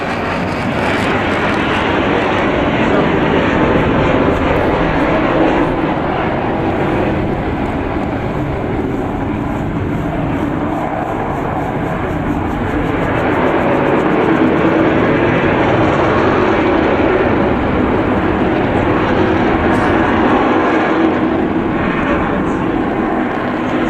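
Avro Vulcan XH558 bomber, undercarriage up, makes a slow flypast and gently accelerates away, a loud continuous broadband engine roar with wind buffeting, steady throughout.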